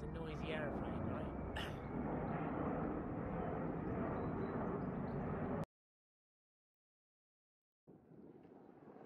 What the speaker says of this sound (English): that is a noisy aeroplane